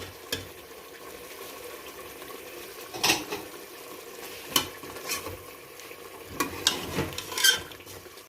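Masala for beef qorma fries in a pot with a little water and qorma spice, under a low sizzle broken by intermittent scraping stirs and clattering knocks of the spoon.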